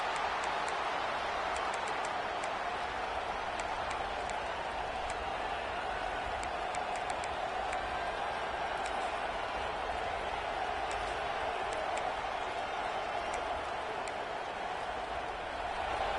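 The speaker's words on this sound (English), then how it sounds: "The roar of the crowd trying to fuel this defense to keep them pinned in their own end." Stadium crowd at a football game roars in a steady, dense wash of noise that holds loud and unbroken from start to finish, with scattered sharper whistles and shouts poking through.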